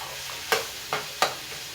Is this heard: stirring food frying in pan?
yes